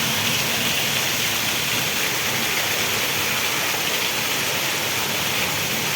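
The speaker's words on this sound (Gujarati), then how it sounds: "અત્યંત ભારે વરસાદ પડી રહ્યો છે" Very heavy monsoon rain pouring down in a village during a thunderstorm, a dense, loud, unbroken roar of water with no distinct thunderclaps, steady throughout.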